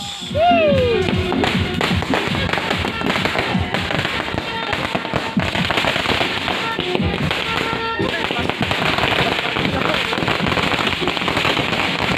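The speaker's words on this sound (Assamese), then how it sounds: "দৰাৰ অহাৰ কাৰণে আমাৰ বোমা ফুটা আছে" Firecrackers burst in rapid, dense volleys of sharp cracks and pops to greet a groom's arrival at an Assamese wedding. The bangs are close and loud and keep going for over twelve seconds, with voices heard among the bursts.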